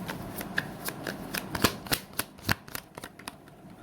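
Tarot cards being shuffled by hand, a close run of crisp riffling snaps and soft slaps in an uneven rhythm, with no talking.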